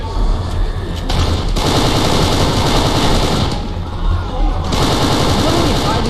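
Sustained automatic machine gun fire in the shooter video game Kane & Lynch 2: Dog Days, a dense, loud rattle of rapid shots in long bursts with brief breaks, close and continuous, and speech is faintly heard in the mix.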